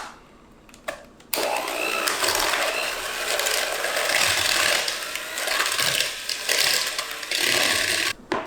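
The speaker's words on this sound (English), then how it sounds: "beat together your 1/3 cup of sugar, as well as the 8 ounces of cream cheese" Sugar and cream cheese being beaten together for a blueberry banana pie: a steady, loud whirring churn that starts after a quiet second and runs almost to the end before cutting off.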